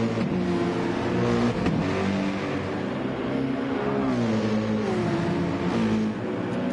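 GT race cars howl around Bathurst in the 12 Hour race, with a Porsche closing on a Ferrari; loud engines rise and fall through the gears as the cars pass close, and no one speaks.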